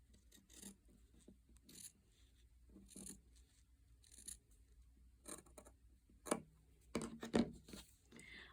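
Scissors snipping through fabric between stitch lines on a quilt block, a few soft rasping cuts close by, with sharper cuts near the end, faint and without talk.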